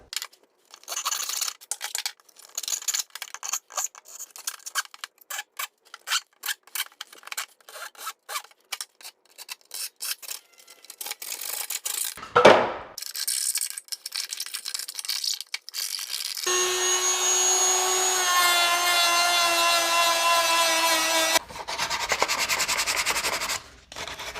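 A plastic motorcycle airbox part on a Yamaha FZ-09 is cut with quick, rapid snips and clicks, then its edges are filed with steady, close rasping strokes that run continuously toward the end.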